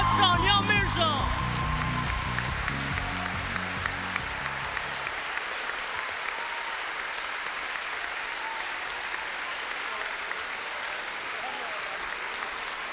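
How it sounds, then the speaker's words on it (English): A large audience at a school leadership lecture claps at length, a broad, steady roar of hands, with a musical fanfare playing over the first five seconds before the applause continues alone. "please rise and give a thunderous applause to Mr. Rohan Bopanna and Sania Mirza."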